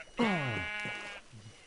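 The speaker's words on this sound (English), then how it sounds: "oh I look over there, there's a sheep" A single drawn-out, wavering bleat from a sheep in the block-building game Minecraft, close and clear, followed by a faint softer bleat.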